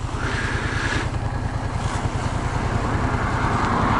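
Loud, steady motorcycle engine drone with a rapid low throb, heard up close while riding, no voices.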